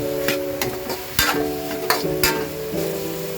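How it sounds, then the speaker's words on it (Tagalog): Chopped food sautéing in a hot pan, a steady close sizzle with a faint tonal hum beneath and sharp scraping stirs every half second or so, no voices. "Dito pa lang ulam na yung ginigisang tinagtad na bako."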